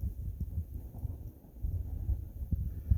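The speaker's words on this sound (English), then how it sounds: "it's a little bit windy" Low, rumbling wind in the woods beside a creek buffets the microphone continuously, with gusty swells and a few thumps; no voices.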